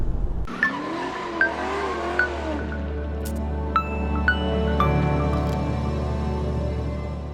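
An electric car's motor hums steadily at low pitch as the vehicle drives, with occasional clicks and a faint electronic tone over the road noise.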